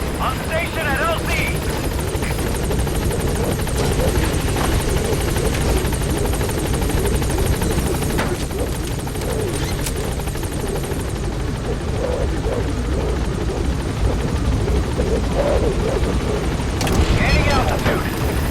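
Support helicopter B-Quad from Metal Gear Solid V arrives at a landing zone, its rotor drone steady and loud throughout, with distant booms and gunfire-like bursts mixed in and game voices over the engine.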